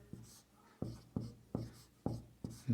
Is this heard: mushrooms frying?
no